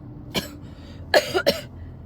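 Three short coughs, one alone and then a quick pair, close and fairly clear against a quiet room.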